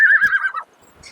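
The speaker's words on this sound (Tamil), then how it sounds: "இது பாத்தீங்கன்னா சின்ன ரக குதிரை" A small-breed horse at the Anthiyur temple chariot festival lets out one loud, close whinny lasting about half a second, followed by quiet background.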